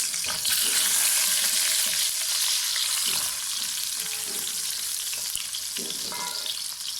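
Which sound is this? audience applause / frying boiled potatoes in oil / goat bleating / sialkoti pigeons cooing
frying boiled potatoes in oil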